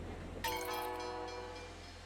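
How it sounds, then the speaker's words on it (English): A video-game train pulls into a station, sounding a loud horn blast that rings out over a low rumbling hum, then fades gradually. "Train has arrived in the station."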